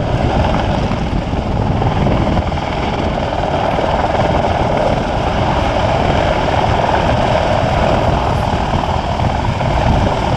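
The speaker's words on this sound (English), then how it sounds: "the British Army Apache attack helicopter." A British Army Apache attack helicopter at an air show, its steady loud rotor and engine roar constant and close throughout, with no other sounds rising above it.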